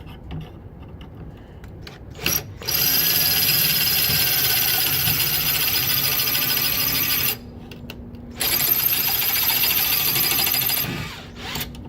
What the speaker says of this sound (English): Now I'm gonna go with a little bit larger drill bit.